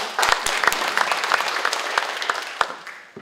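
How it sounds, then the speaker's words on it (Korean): Steady applause from an audience at a National Assembly forum, many hands clapping continuously for a few seconds before tapering off. "여러분 뜨거운 박수 부탁드리겠습니다."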